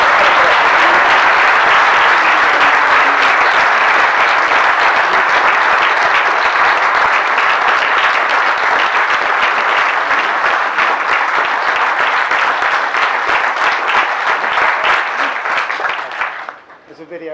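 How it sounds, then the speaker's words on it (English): A large audience claps in sustained, dense applause for a silver award winner at a bird photography awards presentation, holding steady and loud for about sixteen seconds before tapering off abruptly at the end. "let's have a round of applause then for our silver."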